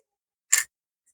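A single short scissors snip trimming leftover fabric scraps while sewing a small pocket bag, one quick crisp cut in an otherwise quiet room.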